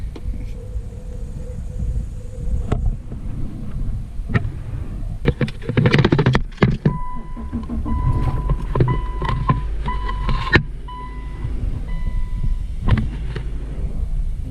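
A 2012 Subaru Outback engine cranks and starts after a fuel pump assembly replacement, a loud mechanical burst settling into a steady idle hum with scattered clicks and rattles nearby.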